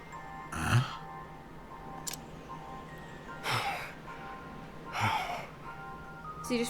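Character in Octopath Traveler II, a captive in a cold cell, gives three slow, heavy breaths spaced a couple of seconds apart over a faint game ambience.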